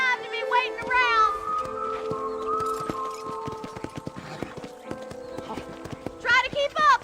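Horses clip-clop and shuffle at a corral in the Red Dead Redemption video game, with scattered hoof knocks, a whinny and ambient tones, while a voice speaks briefly at the start and end.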